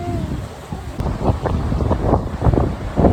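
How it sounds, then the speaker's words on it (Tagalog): Strong gusts buffet the microphone in loud, rumbling bursts, with a broad rush of wind and sea behind, on the coast at Aparri in northern Luzon, Philippines. "Napakaganda ng dagat, napakalakas ng hangin."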